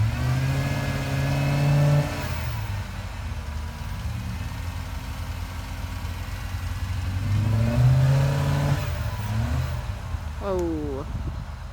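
A truck engine revs hard while trying to pull out, surging loudly, dropping to a labored drone, then climbing again in a second rev near the end.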